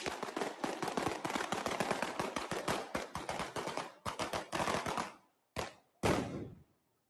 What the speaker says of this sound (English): They are setting off firecrackers for